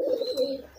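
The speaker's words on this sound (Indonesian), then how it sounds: "Merpati Baru Adias." A newly acquired pigeon gives a single soft, close coo with a hollow, throaty rolling tone lasting under a second, heard alone.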